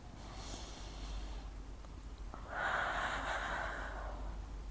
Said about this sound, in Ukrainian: тут ми починаємо дихати глибокий вдих в ребра і видих